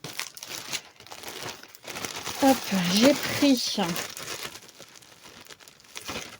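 Plastic packaging around a K-pop Demon Hunter keychain crinkles and rustles as it is unwrapped, close and irregular, with someone talking over the middle of it.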